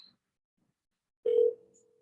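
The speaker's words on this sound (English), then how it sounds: "That part I think is just a little bit quiet when the phone is just ringing." A single short telephone ring tone sounds, a clear steady electronic burst lasting about a quarter second, then fades quickly into silence; quiet and isolated.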